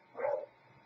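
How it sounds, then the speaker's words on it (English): A single dog bark sounds indoors in a home with four dogs, one short sharp yelp of moderate loudness that quickly fades to quiet. "I have 4 dogs, so I'm sorry about all the barking"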